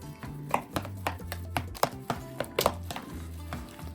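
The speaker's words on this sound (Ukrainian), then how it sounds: "Тепер ложкою все це гарно перемішуємо." A spoon scrapes and knocks against a bowl in a quick, uneven rhythm, small sharp taps over a soft low churning of thick curd and egg mixture.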